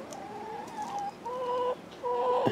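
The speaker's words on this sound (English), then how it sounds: "A chicken prairie right in the backyard." Backyard chickens in a sunny garden prairie make steady, nearby clucking and drawn-out calls. Several hens repeat their murmurs over a constant outdoor background, and no one speaks.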